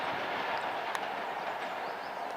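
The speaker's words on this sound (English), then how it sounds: "Here's the train." A steady rumbling rush of a train going by at moderate distance, with a faint metallic click partway through and no pauses.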